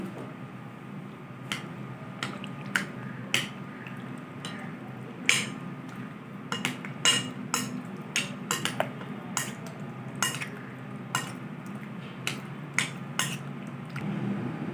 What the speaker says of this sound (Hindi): दो अंडे की सफ़ेदी डालेंगे। अच्छी तरह से मिक्स कर देंगे।